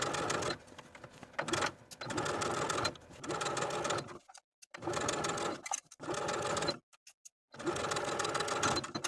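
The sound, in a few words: sewing machine stitching a skirt waistband seam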